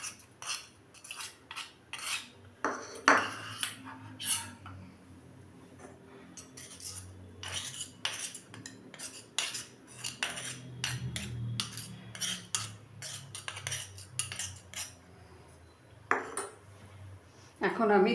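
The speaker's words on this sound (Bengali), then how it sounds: "এখন আমি দুটো মাটির বাটি নিয়েছি, দিয়ে ভালো করে আমি একটু দইয়ের সাঁচা লাগিয়ে নিলাম" Clay bowls clinking and scraping while being coated with yogurt starter in a home kitchen, short scattered knocks and clatters, fairly close and moderately quiet.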